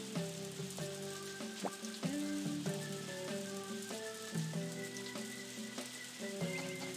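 Steady rain falls in the video game Harvest Moon: A Wonderful Life, a constant hiss beneath a looping melodic game soundtrack that stays prominent throughout.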